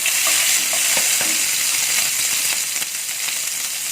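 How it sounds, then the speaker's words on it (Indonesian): Shrimp heads and garlic frying in butter in a hot pan, a loud steady sizzle with scraping stir strokes, close and continuous, no voices. "yang pertama kita masukkan adalah kepala udangnya dulu ya, sama bawang putihnya"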